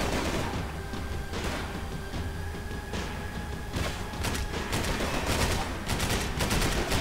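Gunfire in Max Payne 3 as shots are fired into a ceiling: scattered sharp reports and short rattling bursts, loud and close, over a constant din of game noise.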